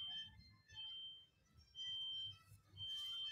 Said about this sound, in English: I hope that's a truck backing up and not like a fire alarm. Like, you know, that beep, beep, beep, beep.